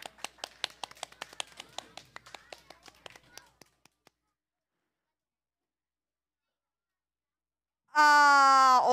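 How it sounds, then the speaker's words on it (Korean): Children's clapping at a church children's service, a burst of uneven claps thinning out over about four seconds, then silence before a loud sustained tone at the end. "박수."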